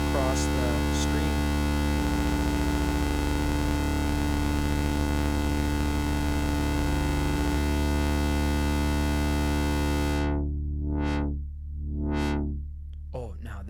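Moog Subharmonicon synthesizer with clashing, interfering frequencies: a dense, steady drone of stacked tones that wavers and beats against itself, later thinning into swelling, pulsing sweeps; loud and continuous throughout.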